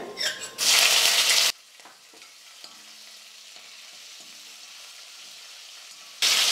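Green chillies hit hot oil with dal and peanuts in a pan for upma tempering, giving a loud burst of sizzling that quickly drops to quiet, light scraping and clicks, then flares loudly again at the end.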